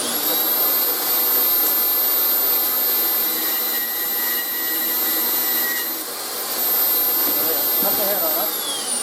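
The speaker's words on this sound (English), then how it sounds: "I'll just come over to my bandsaw stand" Bandsaw on a homemade stand cutting the head off a steel bolt in a workshop, a steady loud whirring grind that runs continuously for the whole stretch with slight dips in intensity.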